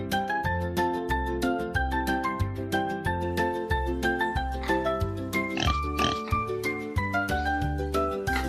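A pig oinks a few times against a calm, steady music backing, the grunts blending into the melody rather than standing out alone.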